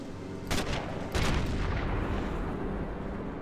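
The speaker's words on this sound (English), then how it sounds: "Ooh, that was a nice dome shot right there." Sniper rifle gunshots in the Sniper Elite video game, two loud booming shots close together followed by a lingering rumble and echo.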